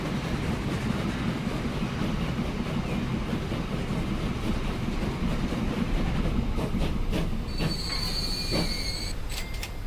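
A train in a transport simulation video game rumbles along steadily, with metallic wheel squeals and clicks rising near the end; no voices.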